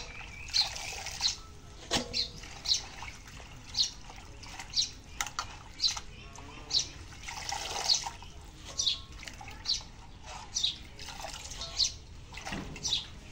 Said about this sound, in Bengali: এখন পুঁই শাকটা ধুয়ে নেই